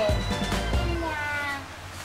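A toy cat gives a short electronic meow, close and fairly clear, with a faint voice murmuring in the background of a toy shop.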